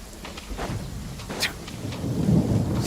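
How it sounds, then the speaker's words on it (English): Heavy rain in the game Genshin Impact hisses steadily, with low rumbling that builds toward the end and no one speaking. "This heavy rain must be quite an inconvenience for you."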